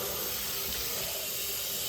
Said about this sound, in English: So we're going to wash this chicken off.